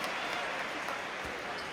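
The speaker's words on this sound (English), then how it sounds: "That's polite applause." Brief, steady polite applause from the crowd at a EuroBasket 2017 basketball game between Serbia and Turkey, a soft, even patter of clapping throughout.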